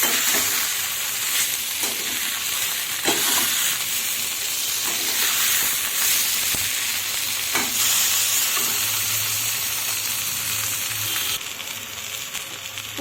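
Prawn paturi frying in a pan, a steady loud sizzle and hiss with occasional soft knocks as the parcels are turned, no one speaking.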